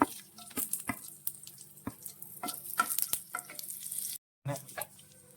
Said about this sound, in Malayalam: എണ്ണ ചൂടായിട്ടുണ്ട്. ഒരല്പം കടുക് ഇട്ട് കൊടുക്കുക. അടുത്ത ഉണക്കമുളക് ഇട്ട് കൊടുക്കുവാണേ.